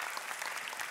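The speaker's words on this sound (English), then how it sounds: "Give the Lord a hand clap of praise" A short burst of church congregation clapping in praise during a worship service, fairly faint and lasting under a second.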